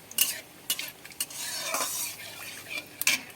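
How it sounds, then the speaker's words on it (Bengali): Bay leaf, dried chili and cumin crackle in hot oil as a utensil stirs the pan, giving repeated sharp scrapes and clinks over a soft, continuous sizzle at close range. "ফোড়নটা ভালো করে নেড়ে চেড়ে নিচ্ছি"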